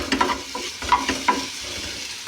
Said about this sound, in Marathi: भेंडी फ्राय.